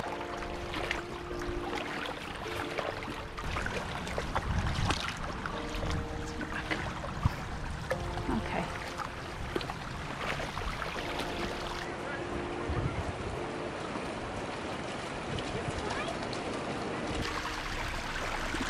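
Continuous rushing of a flowing urban creek, steady and close, with wind gusts and occasional clatter over the water; no one speaks.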